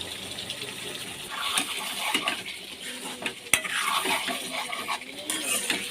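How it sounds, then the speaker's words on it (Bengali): Chicken being stir-fried in spice masala in a pan, with a soft sizzle and repeated scraping and clinking of a utensil against the metal, close and fairly quiet. "চিকেনটাকে আমি ভালো করে কষিয়ে নিচ্ছি।"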